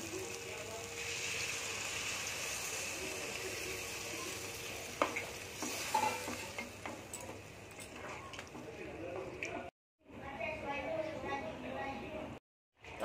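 Soybean curry with kasuri methi and added water sizzling and frying in a pan while being stirred, a steady close scraping and bubbling texture with a few louder clanks and two brief silent gaps.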